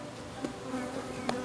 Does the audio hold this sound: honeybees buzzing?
yes